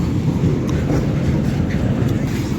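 Long freight train rolling past nearby, a steady low rumble with faint rail clatter filling the whole stretch.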